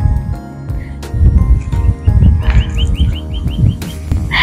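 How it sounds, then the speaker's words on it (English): Small birds sing in a village, their bright repeated chirps and trills sitting over a loud, rumbling low background noise, with no talking. "I can hear the birds like singing song, and it's really cute and beautiful."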